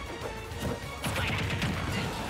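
Heavy smash hits in a Super Smash Bros. Ultimate tournament match against Fox, with a loud impact and crunching bursts of game effects that keep going over steady background noise.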